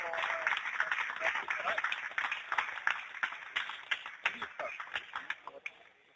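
A crowd at an MMA championship in Belgrade applauds medal winners, a dense burst of clapping that thins out into scattered, separate claps as it dies down.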